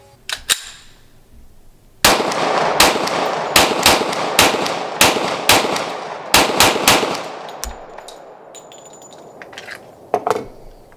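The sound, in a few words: Glock 40 MOS 10mm pistol gunshots at 50 yards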